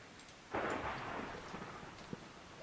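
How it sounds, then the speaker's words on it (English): Thunder rumbles in a Minecraft thunderstorm, a broad roll that swells suddenly and fades slowly over steady rain, with a few soft crackles, and no talking. "Thunderstorm going on the surface."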